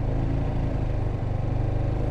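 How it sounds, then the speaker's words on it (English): A motorcycle engine revs close by, a steady low throbbing rumble held at an even pitch throughout. "with your throttle, you're gonna give it some rev"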